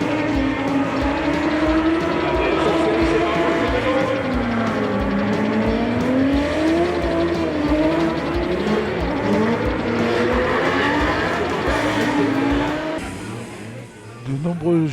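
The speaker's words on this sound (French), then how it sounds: "Franck Lagorce sur Mazda 3, Jean-Philippe Desraux sur BMW M2." Race cars, including a Mazda 3 and a BMW M2, drive in a Trophée Andros ice race at Isola 2000, a loud continuous engine roar with rising and falling revs under an announcer's voice, easing near the end.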